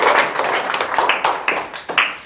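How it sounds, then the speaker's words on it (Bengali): A class of schoolchildren claps hands together in a fairly close, uneven burst, with several sharper individual claps standing out toward the end. "ঠিক আছে, সবাই হাততালি দেই"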